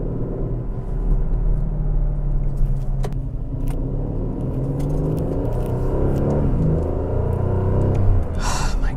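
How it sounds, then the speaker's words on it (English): Aston Martin DB11 Volante V8, driven in Sport Plus mode, gives a steady, deep, growly engine rumble that stays loud and near throughout, with a slight rise in revs toward the end. "The V8 might be a bit too growly."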